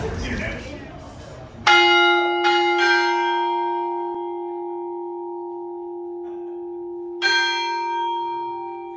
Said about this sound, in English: Bells ring every 15 minutes